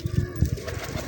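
Prince Kamgar pigeons coo close by in a quick run of soft low pulses, several throaty notes repeating in a steady rhythm within about a second.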